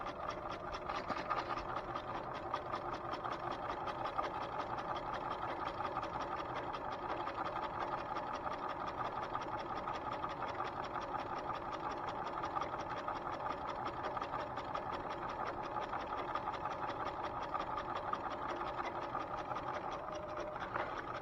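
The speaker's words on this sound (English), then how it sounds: "You're stitching right through the fold." A sewing machine stitches through the folded edge of a hem, a steady fast mechanical whir and rattle running continuously at moderate level with no pauses or speech.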